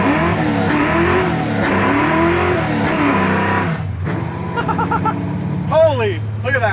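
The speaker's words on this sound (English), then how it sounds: "That was just doing nothing but smoking tires." A 1969 Chevy Camaro accelerating hard with tires spinning and smoking: a loud rising engine roar with gear changes, then a squealing tire screech, with someone talking over it.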